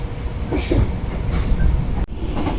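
Executive class passenger train travelling from Jakarta to Malang, a loud steady rumble of the carriage in motion heard from inside, with faint muffled voices.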